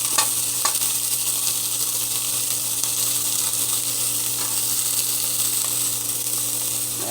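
Potatoes fry on a hot griddle with a continuous, even sizzle and faint crackles, a close, steady hiss that holds without pause and with no one speaking.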